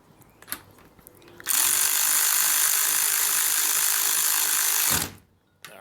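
An Ingersoll Rand Redi-Ratchet drives a flange bolt tight with a loud, continuous high whir for about three and a half seconds, then cuts off abruptly as it stalls. Light handling clicks come before and after.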